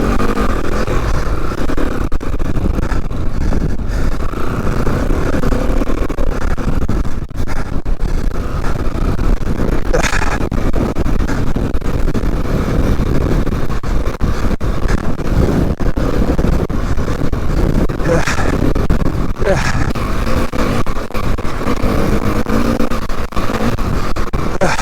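A KTM EXC250F Six Days dirt bike is ridden hard off-road, its engine droning loud and continuous for the whole stretch, mixed with wind roar and some revving swells.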